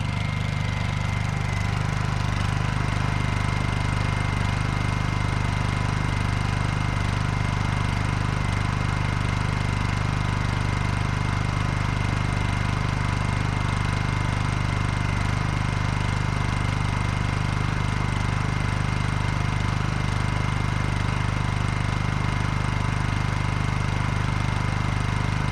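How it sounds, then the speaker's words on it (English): A Honda EU2000i portable generator runs steadily, miked right at the exhaust, a loud, constant drone with a strong low hum and no change in pace. "Get up right behind the exhaust signal. It sounds like right at the exhaust point."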